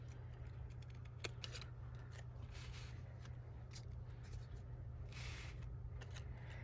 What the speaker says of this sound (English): we're going to cut the petals off. So I like to use the smaller precision scissors so you can get in there.